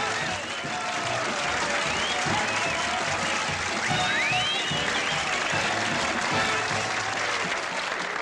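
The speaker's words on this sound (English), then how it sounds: "it's so good to hear that applause" Dense crowd applause fills the whole stretch, loud and continuous with a few faint higher whistles or cheers riding over the clapping.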